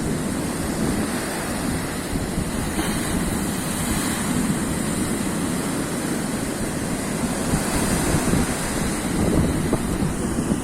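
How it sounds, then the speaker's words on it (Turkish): Sea waves surge and break continuously at Karasu beach during a sea bass fishing outing, a loud, close wash of surf mixed with buffeting wind on the microphone and no speech. "Evet, dalga gitgide artıyor."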